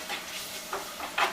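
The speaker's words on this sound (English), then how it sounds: "You hear it nicely sizzling" Chicken gizzards sauté in a pan for Puerto Rican guineos con mollejitas, giving a soft, close sizzling hiss that swells in short bursts as the food is stirred.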